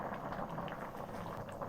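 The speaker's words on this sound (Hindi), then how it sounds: "तेज आंच पे चावल पक रहे हैं" Basmati rice boiling hard in a pot of water over a high flame, a steady close bubbling and seething texture with small popping bursts throughout, no voices.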